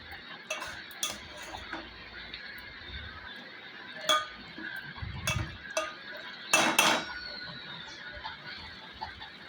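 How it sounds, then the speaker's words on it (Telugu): A spoon stirs sweet flat bean (goru chikkudu) curry in a metal pot, giving scattered scrapes and clinks against the pot with quiet gaps between, fairly faint and without talk. "ఇప్పుడు ఇవన్నీ బాగా కలిసేలా కలుపుకొని"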